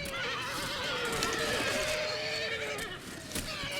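Horses neigh and whinny repeatedly amid hoofbeats and battle ambience from horse archers in the Shogun Total War game, a continuous loud, layered din with rising and falling cries.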